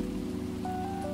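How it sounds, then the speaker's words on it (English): Steady rain falling in the video game SCHiM, a dense soft patter heard alone with a faint tonal game sound rising near the end. "It's raining again."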